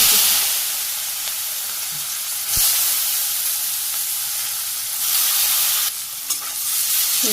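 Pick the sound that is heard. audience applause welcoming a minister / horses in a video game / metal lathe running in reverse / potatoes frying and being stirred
potatoes frying and being stirred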